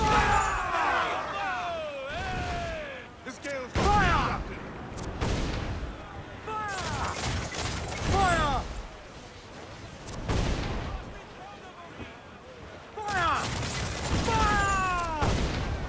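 Ship cannons fire repeatedly in Assassin's Creed IV: Black Flag, heavy booming blasts scattered across the scene with descending whistling tones and battle noise between them, with voices mixed in.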